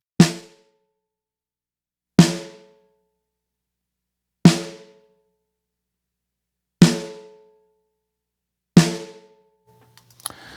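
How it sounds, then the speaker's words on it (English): Five punchy compressed snare drum hits land about two seconds apart, each with a sharp crack and a short ringing tail, loud and alone. "what you're hearing is the snare drum in its natural state, obviously with a little bit of love from the compressor"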